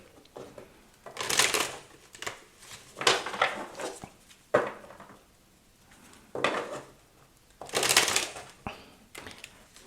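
A deck of playing cards being shuffled by hand at close range, several crisp riffling bursts separated by brief pauses and soft handling noises, with no talking.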